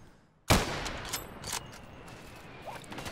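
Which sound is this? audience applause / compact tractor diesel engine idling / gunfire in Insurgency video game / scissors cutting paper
gunfire in Insurgency video game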